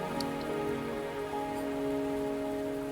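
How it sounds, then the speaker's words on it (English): Rain falls steadily in the video game Wuthering Waves, a soft continuous patter on surfaces with faint sustained tones from the game's music underneath. "Are you trapped here by the rain?"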